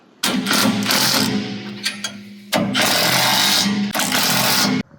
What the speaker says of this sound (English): grab your impact and your wrench and tighten them up